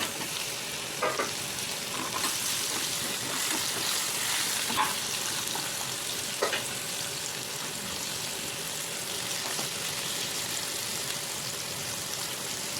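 Raw green mango frying in hot oil with asafoetida, cumin and coriander seeds, giving a steady, close sizzle with occasional soft stirring scrapes throughout, with no talking.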